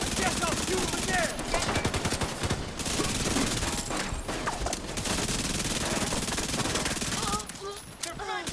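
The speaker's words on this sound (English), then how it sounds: "Guess I'll shoot him again!" Sustained automatic gunfire in a shooter video game, loud dense rapid bursts continuing almost without pause, with a voice faintly underneath.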